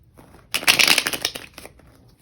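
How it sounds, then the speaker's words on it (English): Tarot cards being shuffled by hand, a brief close riffle of rustling card edges that rises sharply, flutters for about a second and tapers off. "I like to give the cards an extra shuffle."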